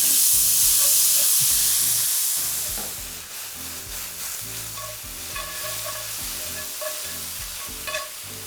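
Spinach wilts in a hot pan as it is stirred, the loud hiss of sizzling at first easing into softer scrapes and steady, rhythmic stirring nearby.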